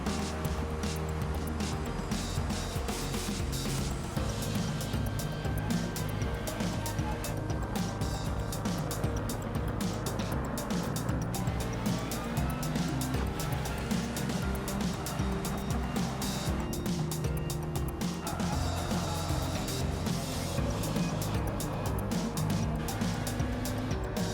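Race cars in Gran Turismo 7, including a Toyota Supra, droning continuously with shifting whining engine tones and gear changes throughout a close battle, steady and unbroken, with faint commentary in the background.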